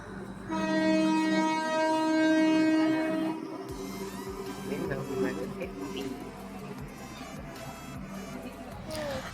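A train at a railway station sounds a long, loud horn over about three seconds, then rolls on with rhythmic wheel clatter and rumble while faint voices carry in the background.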